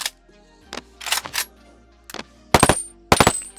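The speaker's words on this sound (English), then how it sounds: "Let's listen to some gunshots." Several sharp bursts of AK Gepard gunfire in the video game Boneworks, a few short volleys separated by pauses, the last two louder and with a ringing tail.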